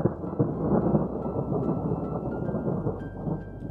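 Heavy rain pours steadily during a thunderstorm, with low rumbling thunder running underneath, close and continuous without speech.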